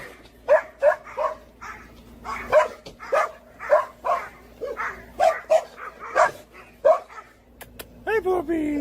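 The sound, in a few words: dog barking and whimpering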